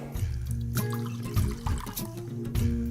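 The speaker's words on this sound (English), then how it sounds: "I'm going to pour the last bit through." A mixed berry sauce of strawberries, blueberries, blackberries and red currants being poured through a strainer, giving a close, continuous liquid trickle and pour with small splashes and drips in a kitchen.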